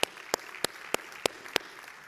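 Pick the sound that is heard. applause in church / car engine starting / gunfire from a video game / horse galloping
applause in church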